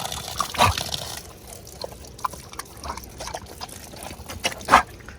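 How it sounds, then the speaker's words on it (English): Water drains from an antifreeze outdoor faucet after replacement, a faint, irregular trickle and dribble with a few sharper drips and splashes standing out, heard up close with no talking. "This is an antifreeze one, so the water drains out of it"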